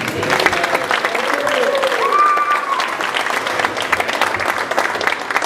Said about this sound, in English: another round of applause for Wayne Harris.